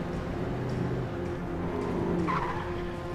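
A car skidding in the Alan Wake video game, a steady loud engine roar with a brief tire squeal rising near the end, with no talk over it.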